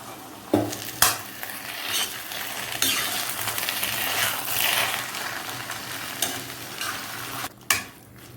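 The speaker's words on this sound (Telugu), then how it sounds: "ఒక్క ముక్క కూడా పెద్ద పెద్ద ముక్కలు లేకుండా స్మాష్ చేసేసుకోవాలి" Boiled potatoes are mashed with a splash of water for a masala dosa potato curry, giving a steady close squishing and scraping with a few sharp clacks of the utensil against the pan.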